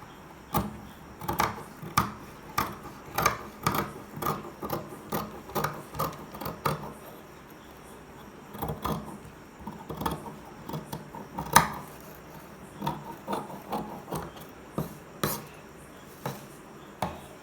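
Scissors cutting fabric for a kids' long frock, a series of crisp, rhythmic snips and clicks, close and moderately loud, with a short pause midway.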